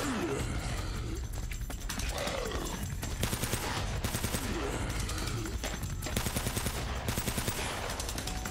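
Rapid bursts of gunfire from the video game Uncharted: Drake's Fortune, dense repeated shots and machine-gun volleys crackling continuously throughout, loud and close with a busy game soundscape.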